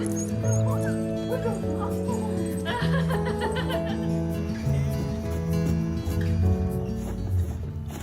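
A dog whimpers and lets out small, high yips in short bursts over a steady, sustained tonal backdrop at moderate volume.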